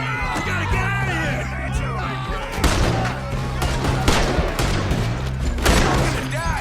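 A shootout in the Western video game Red Dead Redemption 2, with dense, loud gunfire cracking in rapid bursts over continuous game noise while voices shout throughout.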